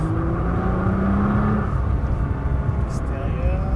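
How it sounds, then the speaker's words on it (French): A 550 hp Nissan GT-R engine revs as the car accelerates harder and harder on a track. A steady, close engine roar and whir rises in pitch under a voice. "Et on accélère de plus en plus."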